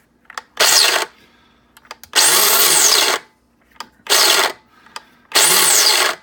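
Mr. Coffee coffee grinder motor whirring loudly in four separate bursts of about one to one and a half seconds each, set to its coarsest grind, with short quiet gaps and small clicks between runs.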